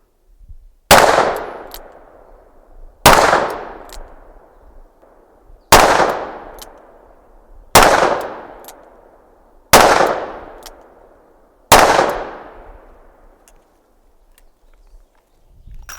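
Six loud, sharp Full House .44 Magnum pistol shots are fired over a chronograph, spaced a couple of seconds apart, each crack leaving a ringing, fading tail.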